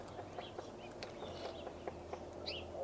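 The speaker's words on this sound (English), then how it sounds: "Hear the woodpecker in the background?" Faint bird chirps and calls, including a woodpecker, drift through a quiet Texas garden, with sparse sharp ticks and a steady low hum underneath.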